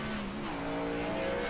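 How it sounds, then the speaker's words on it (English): A race truck in an online Super Truck racing game at Bristol Motor Speedway spins a donut. Its engine holds a steady sustained drone, tires hiss beneath it, and the sound is loud and continuous with no talk. "And Dalton give him a little bit of a donut there"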